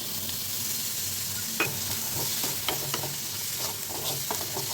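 Green peas sautéing with masala in a pan: continuous close sizzle with scattered scraping stir strokes, steady and fairly loud throughout, no talking.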